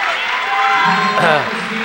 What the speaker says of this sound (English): Gets the crowd going.